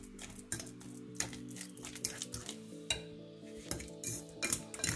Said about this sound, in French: écraser la banane jusqu'à obtention d'un mélange homogène